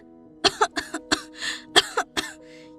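A burst of several sharp coughs close by, spaced irregularly with a rougher throaty exhale in the middle, over a faint steady hum.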